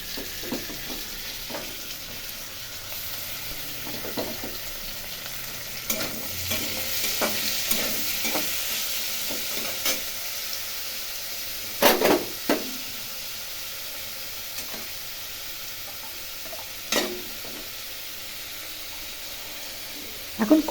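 Ground cumin and coriander sizzle in hot oil in a pan while a spoon stirs, producing a steady frying hiss with sharp scraping clinks at intervals, close and moderately loud with no talk.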